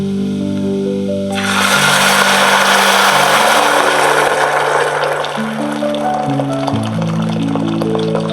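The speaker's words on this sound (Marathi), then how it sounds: "आता हे लाल झाले, ह्याच्यात पाणी टाकते." Hot water pours into a pan of browned cinnamon, cloves, cashews, almonds, raisins and cardamom for coconut rice, breaking into a loud rushing sizzle after a quiet start that settles slowly, with background music throughout.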